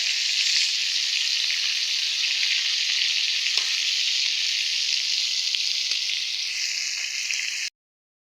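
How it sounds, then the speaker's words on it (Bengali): Tilapia fish frying in oil in a wok gives a loud, steady, close sizzle that holds evenly for several seconds, then cuts off abruptly. "এখন আমি যে কড়াইতে বসাই দিলাম ভাজার জন্য"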